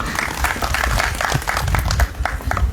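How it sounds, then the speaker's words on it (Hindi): An audience at a stage gathering gives dense, steady applause that fills the moment, a loud continuous wash of many hands clapping with no clear talk on top. "जोरदार तालियां।"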